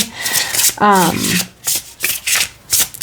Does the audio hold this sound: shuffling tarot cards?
yes